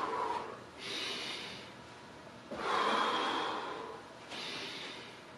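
Three long breathy exhalations during a bending warm-up stretch, each a broad airy rush lasting over a second, close to the mic with short quiet gaps between them; no talking.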